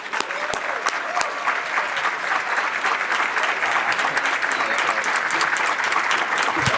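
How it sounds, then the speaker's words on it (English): Loud, sustained applause from the audience at a Greater Washington Hispanic Chamber of Commerce event as Mayor Bowser is welcomed, dense continuous clapping with a few sharper individual claps standing out and some crowd voices beneath. "Let's give a rousing round of applause as we welcome the mayor."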